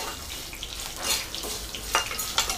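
Unpeeled garlic cloves roast in a pan for masala puffed rice, giving a soft, crackly sizzle with light stirring and a few brief clicks, faint and close.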